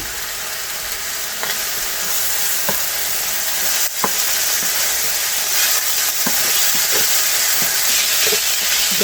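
Meat browning in a pan with sesame oil and a splash of red wine vinegar, giving a steady, close sizzle with occasional clicks of stirring and scraping, heard alone.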